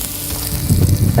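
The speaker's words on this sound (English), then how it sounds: "it's already sizzling" Asparagus sizzling in a hot pan with Parmigiano cheese, a loud close crackling hiss that intensifies toward the end of the brief moment.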